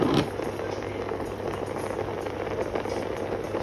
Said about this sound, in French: entendez, hein, ça bouille directement là